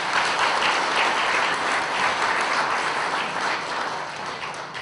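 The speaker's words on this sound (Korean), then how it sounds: "뜨거운 박수 부탁드리겠습니다." Audience applause at a badge ceremony honoring a company chairman: dense, sustained clapping from a crowd, steady and loud throughout, with no pauses.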